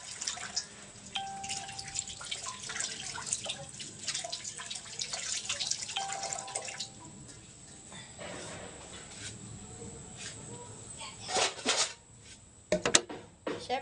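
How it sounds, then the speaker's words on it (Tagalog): Tomatoes are rinsed under a running faucet in a kitchen sink, producing steady dripping and splashing water with rubbing sounds, louder bursts near the end, no talking. "hugasan na din natin ang ating kamatis"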